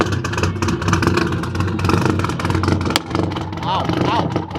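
A Subaru car engine revving hard toward a high redline at a collector car show, loud and close with rising and falling revs and mechanical clatter, while people talk nearby.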